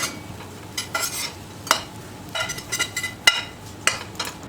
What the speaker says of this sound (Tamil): அதே கடாயில் கட் பண்ணி வச்சுருக்கிற பிரெட் துண்டுகளை போட்டு நம்ம நல்லா ரோஸ்ட் பண்ணி எடுத்துக்கணும்